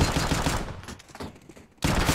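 Gunfire in a Counter-Strike competitive match shootout, with dense bursts at the start and again near the end around a quieter stretch, loud and close.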